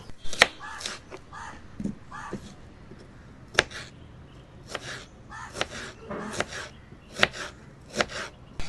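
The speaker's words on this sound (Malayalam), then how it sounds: "തക്കാളി ചെറിയ പീസാക്കി വേണം മുറിക്കാൻ" A tomato diced into small pieces on a board for Bombay street food, sharp knife chops landing at an irregular pace, close and distinct.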